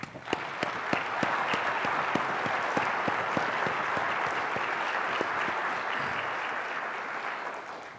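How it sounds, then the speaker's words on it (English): A room full of people applauds steadily for several seconds, dense clapping with a few sharper claps standing out, then tapering off at the end. "Give her a round of applause"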